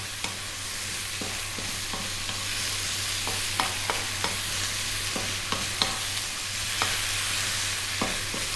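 Food for an Italian pasta dish stirred constantly in a pan over high heat: a steady loud sizzle with a scattering of light spatula scrapes and taps throughout.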